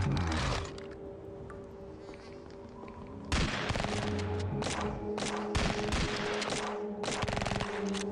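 Submachine gun and shotgun fire in the video game Chromosome Evil, sharp bursts of rapid shots and single heavy blasts in fast succession, loud and close.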